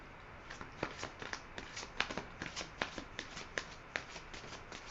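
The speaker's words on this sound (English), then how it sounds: "And I will pull a card." Tarot cards shuffled and handled by hand before one is drawn, a soft run of crisp riffling flicks in an uneven rhythm, close and quiet, with no voices.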